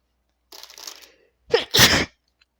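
A single loud, sharp sneeze bursts out alone in a quiet room, preceded by a softer breathy intake.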